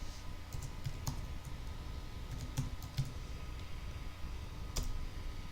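Soft, intermittent typing on a computer keyboard, with irregular clicks and small bursts of keys over a steady background hiss.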